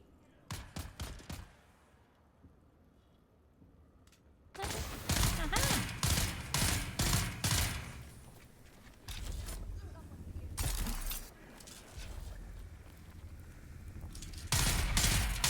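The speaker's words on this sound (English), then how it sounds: "There's a sniper who's doing the shoot." Sniper gunfire in the video game Dune Awakening, heard as sharp cracks and bursts of shots, a quick cluster early on, then heavier repeated firing mixed with game effects and speech.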